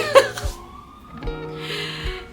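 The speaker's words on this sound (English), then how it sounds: "Typical New York City with the ambulance." An ambulance siren wails and warbles at moderate distance on a New York City street, pitch sliding up and down, with muffled street noise beneath.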